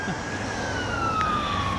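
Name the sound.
siren, thought to be a police car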